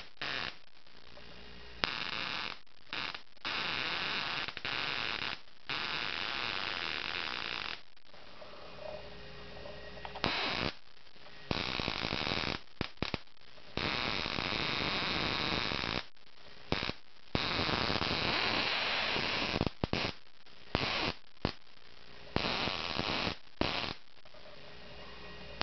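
Loud electrical hum and buzz from a flyback transformer driving a saltwater capacitor, cutting in and out in repeated bursts of varying length with brief silent gaps, close and steady during each burst.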